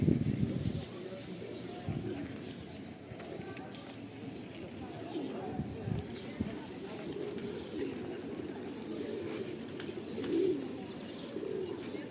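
Pigeons coo softly in the background amid a low outdoor murmur in Uzhhorod, with occasional faint chirps and voices.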